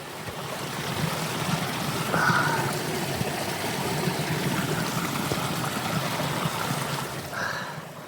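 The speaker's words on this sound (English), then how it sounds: "Topping up my water." Water running in a mountain stream in the Pyrenees as a bottle is filled, a steady close rushing and trickling that holds for the whole stretch, with a couple of brief brighter splashes.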